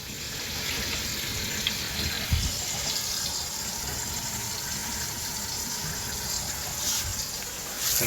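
A kitchen faucet runs steadily after an under-sink compression valve replacement, water splashing into the sink in a continuous hiss with a few small clunks.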